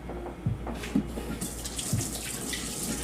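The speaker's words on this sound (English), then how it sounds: "And then we're going to drain the water" Water drains from a cooking pot into a kitchen sink while making Vietnamese bun rieu crab noodle soup, a steady close rushing flow with a few low thumps and brighter splashing toward the end.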